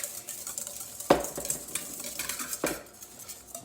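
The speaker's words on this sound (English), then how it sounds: "Then you grab your whisk." Whisk clattering against a bowl while mixing vinegar and mustard into a salad dressing: two sharp metallic knocks stand out over a soft, steady stirring swish, close by and with no voices.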